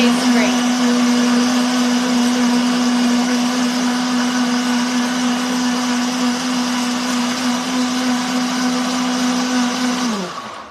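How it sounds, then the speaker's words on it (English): A blender runs steadily for about ten seconds, mixing a chocolate almond milk smoothie made with unsweetened chocolate almond milk, a loud continuous motor whir with a steady pitch that winds down abruptly at the end. "It's better with a blender, but you can shake it in a shaker bottle."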